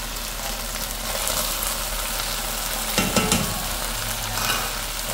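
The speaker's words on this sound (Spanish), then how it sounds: "Vamos a darle una sofrita a la cebolla. Ahora vamos a agregar el tomatito." Onion and tomato frying in a pan, with a steady close sizzle and some stirring scrapes and clatter, no talk.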